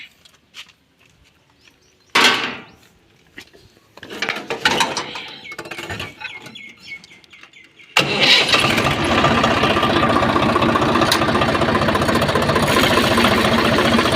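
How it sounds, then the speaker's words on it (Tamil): A vehicle engine, its gear in neutral, is cranked after some clicks and shuffling, then catches and settles into a loud, steady idle that fills the rest of the clip. "பாருங்கள் நியூட்ரல் ஆயிடுச்சு ஸ்டார்ட் பண்ணி காட்டுறேன் பாருங்கள்"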